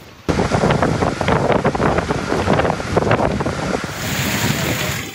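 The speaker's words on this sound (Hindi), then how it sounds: "टंडवाला यार में तेज हवाओं के साथ तूफानी बारिश हुई" Stormy rain driven by strong winds in Tando Allahyar, a dense, roaring wash of wind and rain that starts abruptly and stays loud and steady throughout, with no voices.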